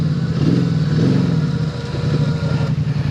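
A Polaris Sportsman High Lifter ATV stuck in mud revs its engine hard, a loud, close, throbbing mid-pitched drone that rises and dips as the throttle is worked.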